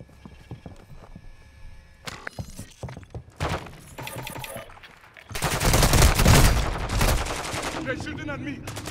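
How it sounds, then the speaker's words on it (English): Video game gunfire from a warzone shooter, where enemies open fire on the player: scattered clicks and thuds give way to a loud, dense burst of rapid shots that continues to the end. "They're shooting at me!"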